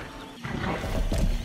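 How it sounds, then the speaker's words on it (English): A large horse whinnies in the video game Breath of the Wild, a loud, close neigh rising over a steady background bed, with hoof clip-clop in the mix. "That's a big horse."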